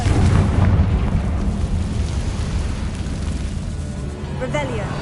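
Fiery Confringo spell blasts in Hogwarts Legacy, a loud rumbling explosion right at the start that decays into a long roaring boom, with a brief whooshing cast near the end.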